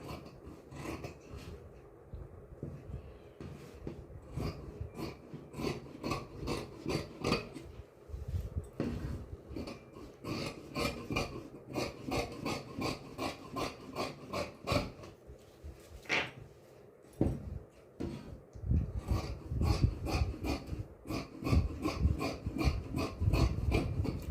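Scissors cutting fabric for a full sleeve during a home sewing lesson: steady close-up snipping and rasping strokes repeat for about twenty-four seconds, with no talking.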